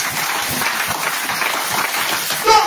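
A church congregation applauds during a sermon, and a dense, steady wash of clapping fills the space at close to moderate distance, with a brief louder sound near the end.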